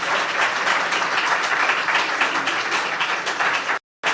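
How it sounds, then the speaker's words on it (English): Loud, close applause for staff at an affordable-housing meeting, a dense roomful of clapping that runs steadily and then cuts off abruptly near the end. "Our staff deserves a huge round of applause."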